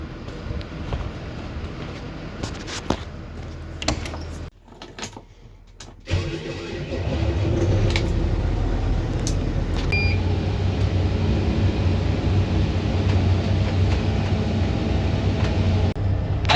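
Farm machinery clatters, goes briefly quiet, then a heavy tractor engine starts up and settles into a steady, loud rumbling idle that continues to the end.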